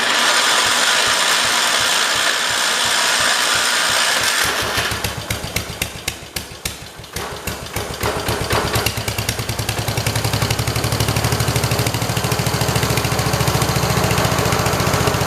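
A swapped Kohler engine on a 1968 112 tractor sputters, then catches and runs, shifting from irregular chugging pops into a faster steady rattling idle that grows louder toward the end, close and alone.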